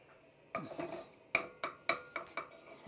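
Butter goes into a saucepan for a cheese sauce, heard as a series of sharp clinks and scrapes of a utensil against the metal pan, close, fairly faint, and irregularly spaced with no talking.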